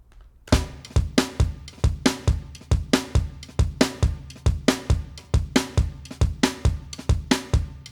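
Brazilian samba-style drum groove, a steady loop of punchy percussive hits in a bouncing syncopated rhythm, close and loud with no talking.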